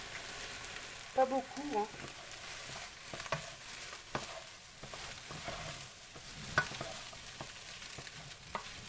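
Fried rice sizzling in a pan after soy sauce goes in, a steady hiss with scattered clicks and scrapes of stirring, close but moderate, while a voice says a few brief words.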